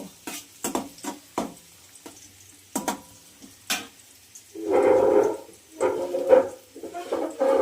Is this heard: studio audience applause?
no